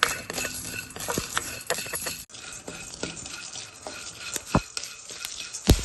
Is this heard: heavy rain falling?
no